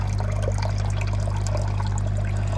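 Water drains from a garden pond filter after cleaning, a steady trickling and splashing flow that holds constant throughout, close and fairly loud, with a low hum underneath and no talk.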